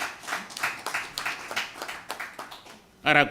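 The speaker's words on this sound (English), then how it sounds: "yes, you can clap with this one" An audience at an agricultural stakeholder conference claps in a brief, uneven burst of hand strikes, with a voice breaking in at the end.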